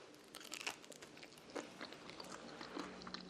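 Biting into a Greek leek and feta pie with a flaky phyllo crust, giving close, crisp crunching with a few sharp crackles spread over a few seconds, with no talk.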